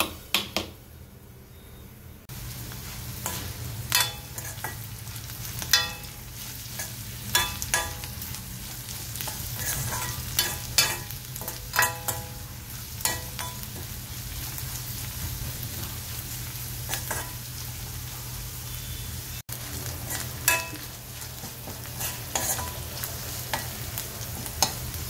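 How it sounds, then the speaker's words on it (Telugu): Ivy gourd (tindora) pieces frying in a pan, a low steady sizzle broken by repeated crisp scrapes and taps of a spatula stirring, close and continuous with no talk. "దొండకాయ ముక్కలు బాగా ఫ్రై అయిన తర్వాత"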